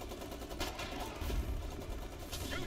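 Machine gun fire from an MG pillbox in the online war game Foxhole, rapid rattling bursts layered over a dense battlefield din, fairly distant and muffled, with no speech.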